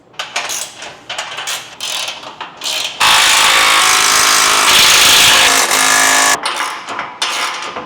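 A ratchet wrench tightens bolts on an Ultra-Tow 4x8 folding trailer: close, loud, rapid clicking strokes, then a long continuous ratcheting run, then more separate bursts of clicks.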